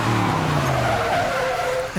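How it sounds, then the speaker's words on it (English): Film scene of a car pushed hard, engine roaring as tires squeal and skid loudly up close, the pitch sliding down over two seconds with no voices. "Oh, that engine. Oh, Sounds amazing."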